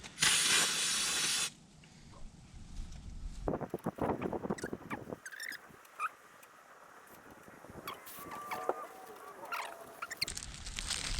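A loud burst of aerosol spray hisses for over a second while working on a boat trailer, then short bursts, clatter and rustling follow, ending with another hissing spray.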